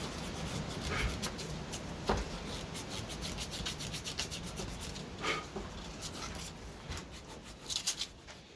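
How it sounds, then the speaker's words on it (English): Sandpaper rubbed by hand inside the neck pocket of a guitar body, a close, quiet scratchy rasp in uneven strokes with a few louder scrapes. "So I've decided to give it a little sand."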